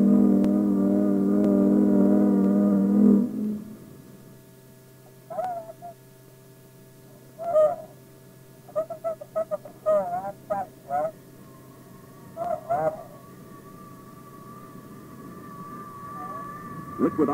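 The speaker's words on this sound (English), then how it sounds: "Liquid oxygen supply pipes set up a distinctive wail as they are pre-cooled before a LOX is fed to the bird." On an Atlas missile launch pad, liquid oxygen supply pipes being pre-cooled give a loud, sustained, harmonic wail for about three seconds. Scattered warbling tonal bursts follow over a quieter steady hum.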